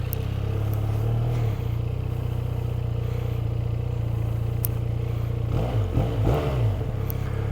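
A 2023 QJMotor SRK400 motorcycle engine runs steadily at idle with a low, even rumble, then gives a couple of short throttle blips near the end.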